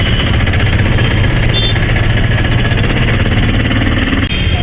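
A motorbike engine runs loud and close on a street in Bhubaneswar, a continuous rough drone with steady vibration and no pauses.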